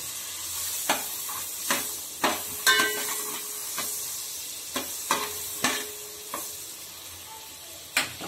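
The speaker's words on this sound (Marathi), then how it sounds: "पावभाजी बनवताना पहिले आपण बटर टाकत आहोत." Butter sizzling in a hot pan while pav bhaji is being made, a steady soft frying hiss broken by repeated sharp scrapes and clinks of a spatula against the metal, all close up with no talking.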